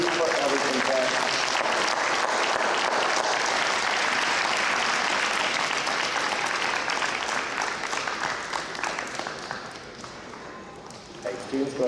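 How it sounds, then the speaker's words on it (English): A large audience at a school honor society ceremony applauds parents and family, many hands clapping at once in a strong, sustained roar that thins and fades near the end, with voices faintly mixed in. "give your parents and family a huge round of applause"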